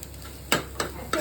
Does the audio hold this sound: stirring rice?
yes